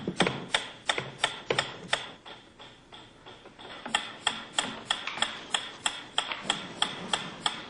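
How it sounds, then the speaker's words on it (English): A metronome ticks steadily in a sharp, even rhythm, about two to three crisp clicks per second, close and clear with faint mechanical undertones and no voices. "A ticking metronome."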